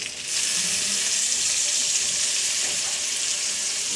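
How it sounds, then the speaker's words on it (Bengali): Water runs steadily into a curry of cooked-down spices and potatoes, a loud continuous pouring and splashing hiss with a faint sizzle underneath, no talking. "এবার আমি জল দেবো।"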